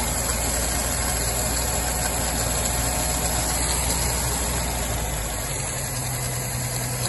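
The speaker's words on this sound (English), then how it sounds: "Have you heard a smoother running engine?" An old Humber Super Snipe car engine idles smoothly and steadily nearby, a constant low rumble with an even, unbroken rhythm throughout.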